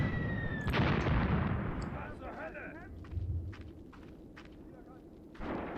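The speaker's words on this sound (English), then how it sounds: "So this barrage is dropping" Artillery shells land in a barrage in the WWII tactics game Graviteam Tactics: Mius Front, with a heavy, loud burst early on, then scattered fainter distant thuds and rumbles under a low background roar.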